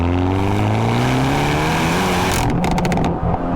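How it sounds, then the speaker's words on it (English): Exhaust of a 2022 Hyundai i30 N with a dual-clutch gearbox under hard acceleration, a loud rising engine drone, then a rapid burst of sharp crackling pops on the shift near the end, close and with no talk. "this thing, because of its dual clutch, does dual clutch farts."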